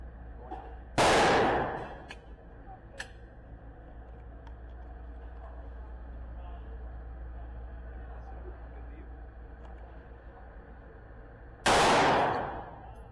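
A Glock pistol being test-fired one round at a time outdoors: two sharp, loud gunshots spaced about ten seconds apart, each with a short decaying echo, over a low steady background rumble.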